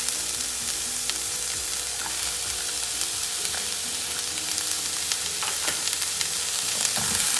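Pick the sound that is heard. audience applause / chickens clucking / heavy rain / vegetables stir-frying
vegetables stir-frying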